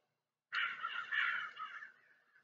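Crows caw outdoors, a single sustained harsh call swelling into a second raspy caw and trailing off, clear and moderately near against a quiet background.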